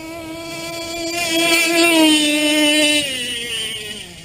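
A boat engine at full throttle roars close and loud, its pitch climbing steadily as it pulls hard, then easing slightly as the run settles.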